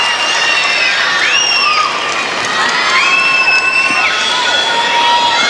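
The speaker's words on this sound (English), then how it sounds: "The approval of her American teammates and this crowd gathered in Baton Rouge" A large arena crowd in Baton Rouge, Louisiana cheers and whistles loudly and continuously after Kristi Yamaguchi's figure skating performance at an ice show, with shrill shouts rising over a steady roar.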